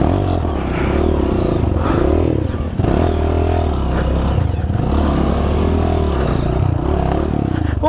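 A Honda CRF 230 trail motorcycle revving on a dirt trail, a loud, close engine that rises and falls with repeated throttle surges, mixed with clattering and scraping.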